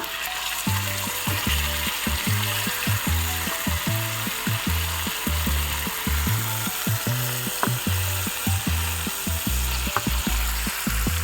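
Chicken pieces coated in breading fry steadily in a pan, a dense continuous sizzle with crackling that holds even throughout, with no voices over it.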